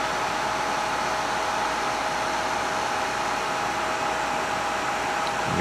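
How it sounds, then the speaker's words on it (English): A small high-speed cooling fan inside an amplifier whirs loudly and close, a steady airy rush that holds without pause. "You hear the small fan slowing down now."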